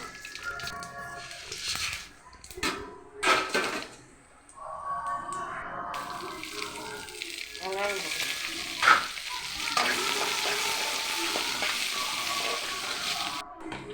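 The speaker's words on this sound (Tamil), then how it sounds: "நாங்கள் வாங்க கடுகு போட்டுவோம்" Mustard seeds crackling and spluttering in hot oil, a loud dense sizzle with sharp pops that builds and continues steadily.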